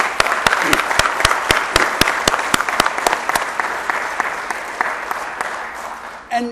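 Audience applause at a NASDAQ opening ceremony, a broad wash of clapping punctuated by sharp regular hand claps that gradually fades, ending with a brief voice.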